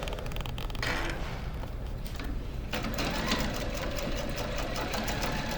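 A sewing machine quilts fabric pieces in a steady, rapid mechanical stitching rhythm, close and fairly quiet, with brief pauses and restarts and no talking.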